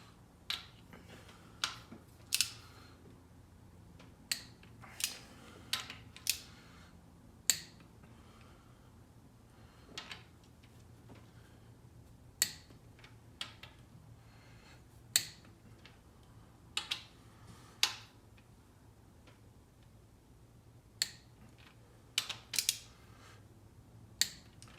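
Torque wrench clicking as oil pan bolts are tightened to 22 foot-pounds on a second pass: a steady run of sharp, isolated clicks spaced a second or two apart over a low background hum, close and fairly quiet.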